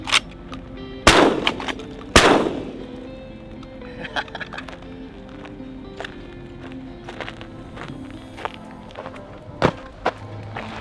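Gunshots are fired at a target on a Texas ranch: two loud, sharp nearby cracks come in quick succession, followed by scattered fainter pops and clicks.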